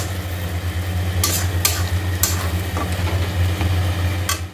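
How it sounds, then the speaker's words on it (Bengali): Mutton spice masala stirred and frying in a pan, a steady low sizzle with scraping stirs breaking through every second or so, close and continuous, no talk. "এখানে এবার মাটনের মশলাটা কষানো চলছে এবার মাটনটা বসাবো"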